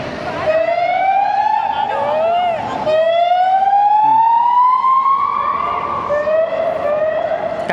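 Police car sirens wailing along a street in Spain in the evening, loud rising and falling tones sweeping past, overlapping as more than one vehicle passes close by.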